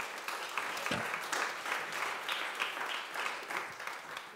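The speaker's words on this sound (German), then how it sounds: "Ein Applaus einmal dafür." An audience at a sports conference in Vienna gives a sustained round of applause, soft and somewhat distant, dense and continuous for a few seconds without talk over it.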